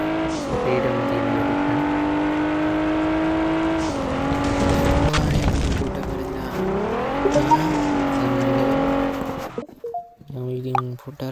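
In the video game Rally Horizons, a rally car engine drones loud and steady, its pitch climbing and dropping through revs and gear changes. It cuts out near the end and gives way to a few brief, choppy sounds.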